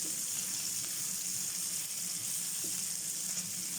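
Onions frying in a very hot wok: a steady, bright sizzle that holds evenly for about four seconds, close and moderately loud, with no talking.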